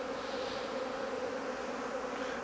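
Bees fly around hives at an apiary, making a steady, dense buzzing drone that stays even and continuous throughout, with no voices over it.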